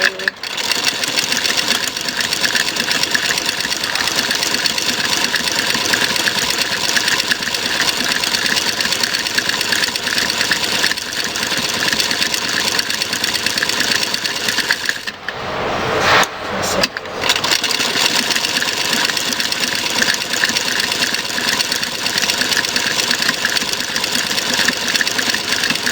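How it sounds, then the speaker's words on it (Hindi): A sewing machine runs steadily while stitching a trouser, a loud continuous whirring hum close by that stops briefly in the middle and then resumes. "अब हमने इसके ऊपर सिलाई लगा लेनी है, सीधी बिल्कुल सीधी सिलाई लगा लेनी है ऐसे"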